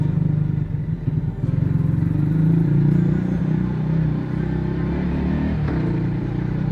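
A Yamaha MT125 motorcycle ridden without its exhaust baffle drones steadily and loudly, its low engine note swelling slightly mid-ride and holding at a constant pace throughout.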